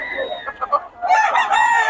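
A rooster crows loudly and close by, a single drawn-out cock-a-doodle-doo following a few short clucks, with faint background sound and no clear talk.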